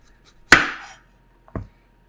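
A knife cuts the ends off a watermelon radish on a board: two crisp, separate chops, the first louder with a short ringing tail, the second quicker and softer about a second later.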